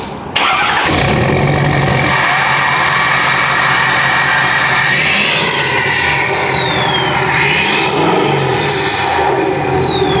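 A 6.7L Powerstroke diesel truck engine cranks and catches, then settles into a loud, steady close-up idle with two rising and falling revs near the end.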